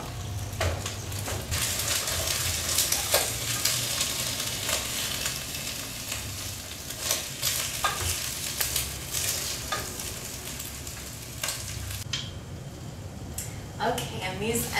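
Onions sauté in a pan while being making vegetable broth, giving a soft, continuous sizzle broken by occasional scraping stirs and clatter, with a voice speaking over it at times.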